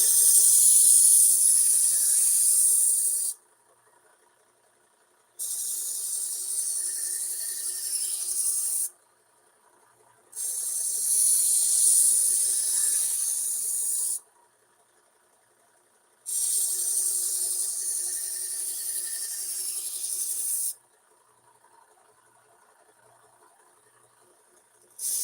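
A fillet knife drawn over a sharpener in four long, even high-pitched hissing strokes, each lasting several seconds with short quiet gaps between, steady and fairly close with no talking.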